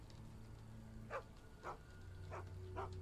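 A dog named Zwog in a Sherlock Holmes adventure game gives four short, evenly spaced barks, moderately near, over a low background hum.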